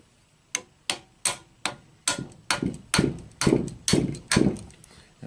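An axle is tapped back into a bow press with about a dozen sharp metallic taps in a quick, even rhythm, close and growing slightly heavier.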